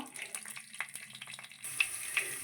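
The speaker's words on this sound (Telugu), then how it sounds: "తాలింపు గింజలు వేస్తున్నాను" Hot oil hisses and crackles as small seeds hit it, the sizzle swelling brighter partway through, close and quiet with no voices.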